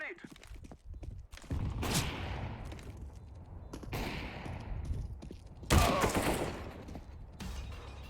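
Video game gunfire in a multiplayer shooter match: bursts of rapid shots and sharp cracks, several separate volleys with a loud burst near the end, while players talk over the action.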